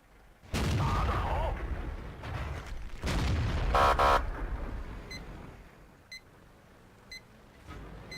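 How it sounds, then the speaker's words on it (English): Tank gunfire exchange between light tanks in World of Tanks, several loud booming cannon shots and rumbling blasts close together, followed by fading rumble and a few periodic electronic beeps. "some more exchanges of fire between light tanks"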